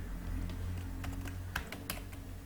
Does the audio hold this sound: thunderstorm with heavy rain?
no